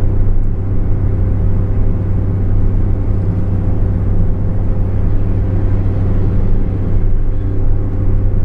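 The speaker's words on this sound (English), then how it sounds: "Ford does a great job of keeping the engine and road noise to a minimum." Steady low engine drone and road rumble inside the cabin of a Ford F-150 EcoBoost pickup towing a heavy trailer at around 3,900 RPM, a constant unbroken hum with no talking.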